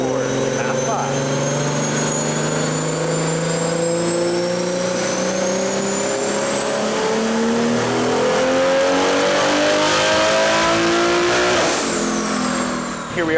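A tuned BMW G80 M3 on a JB4 Map 5 tune, targeting 44 PSI, makes a loud, sustained full-throttle dyno pull with its engine pitch climbing steadily through the gears, then a sharp shift near the end.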